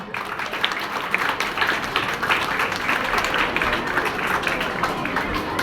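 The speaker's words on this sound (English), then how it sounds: "Let us welcome her with a big round of applause, everyone." Dense audience applause at a Sri Chaitanya school science expo, welcoming a student speaker: a steady, full wash of many hands clapping at once, loud and sustained without breaks, with a faint murmur of voices beneath.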